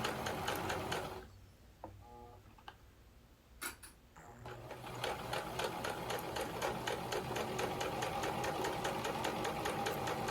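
Sewing machine stitching a chemo port pillow, a rapid rhythmic needle clatter that stops for a few seconds with faint handling clicks, then resumes steady and close.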